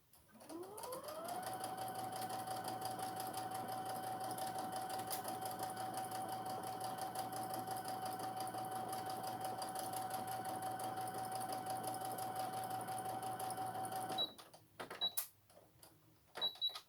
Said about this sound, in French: Et je couds.